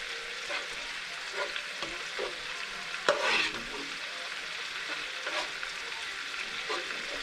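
Spaghetti sauce being mixed in a pan, with soft scraping and stirring strokes spread across the clip, one brief louder scrape partway through, over a faint steady sizzle.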